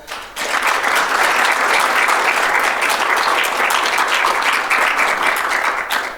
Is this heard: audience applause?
yes